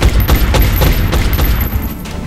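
Gunfire in the turn-based strategy game XCOM: Enemy Within: a loud, close rattle of rapid automatic shots, roughly a dozen sharp cracks in quick succession over a couple of seconds.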